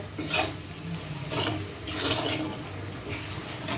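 Ground spices fry with onion in a pan for a peas chicken curry, a soft sizzle with scraping stir strokes coming in repeated bursts, close and fairly quiet.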